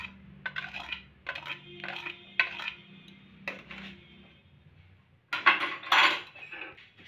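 A spoon stirring semolina and flour in a bowl, producing a series of sharp metallic scrapes and clinks in uneven bursts, with a livelier cluster of scraping toward the end.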